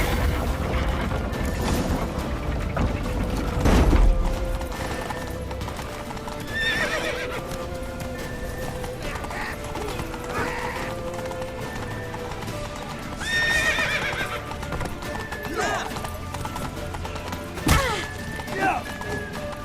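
Horses gallop in The Witcher video game, hooves drumming in a continuous rhythm over a long stretch with occasional whinnies, thuds and crashes, while characters shout now and then.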